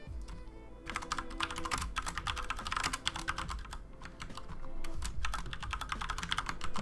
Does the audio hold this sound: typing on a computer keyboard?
yes